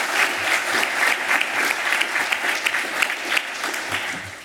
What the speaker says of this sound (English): So I think we all deserve a round of applause.